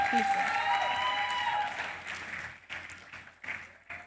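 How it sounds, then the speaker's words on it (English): Audience at a singles conference applauding, a dense wash of clapping that starts full and loud, then thins into scattered, uneven claps as it fades, with a voice speaking over it. "The clap can be better now."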